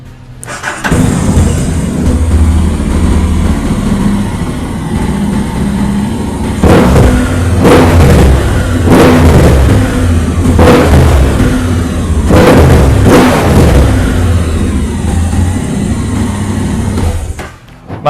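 A Honda X-ADV 750 V-twin maxi-scooter with keyless ignition starts up, then idles with a steady low rumble, broken by several sharp revs of the engine, loud and close, with no voices.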